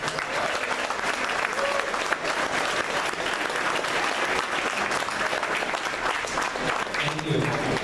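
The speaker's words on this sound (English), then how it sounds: "I think Rob deserves a great round of applause" An audience breaks into sustained, steady applause at an evening party celebration, the clapping holding loud and even throughout with crowd noise mixed in.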